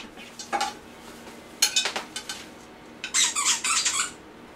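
Dog's squeaky toy squeaked in a few quick bursts, sharp and fairly close, with pauses between them and no talking over it.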